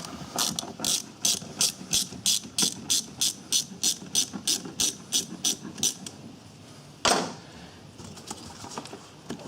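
A hand ratchet loosens a hose clamp on a Ford Ranger's A/C assembly, giving a fast run of about twenty evenly spaced clicks, then a brief louder scrape and a few scattered faint clicks.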